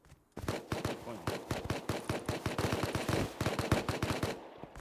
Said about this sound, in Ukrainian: між собою, по-моєму, стріляють